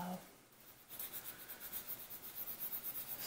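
A vinyl doll is buffed by hand to remove sandpaper scuff marks, giving a soft, rhythmic rubbing swish that repeats quickly and closely after a brief quiet start.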